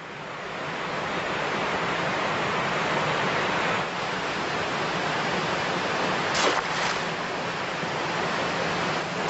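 Steady rushing of the Tera river in Sanabria, Zamora, a broad continuous wash of flowing water with no voices, holding an even level throughout apart from a brief brighter swell midway.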